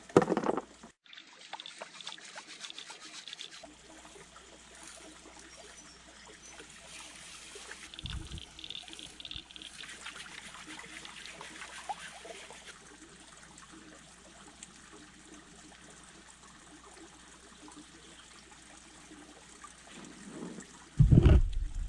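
Water and gravel swirl in a gold pan, giving soft trickling, sloshing and faint gritty washing at close range, with louder splashes at the start and end.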